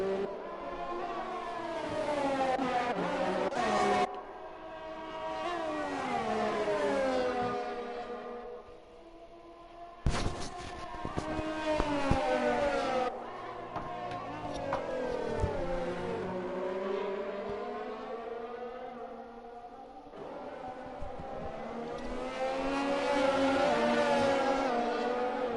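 Formula 1 race cars in a racing video game at the Netherlands round, engines howling and rising in pitch through repeated loud acceleration sweeps, several cars overlapping as they brake and power out of turn 1, with no talk.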